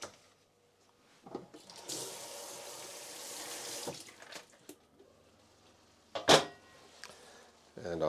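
Tap water runs into a sink to rinse salted eggplant, a steady close splash lasting a couple of seconds, followed by softer handling clatter and a brief second splash near the end.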